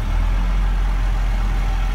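A Caterpillar 953C track loader's diesel engine runs close and loud, a steady deep rumble with no break in its two seconds.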